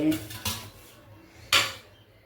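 Cluster beans drop into a pressure cooker in a kitchen, giving a few quick metallic clatters and rustles, the last one sharper, close by and fairly quiet.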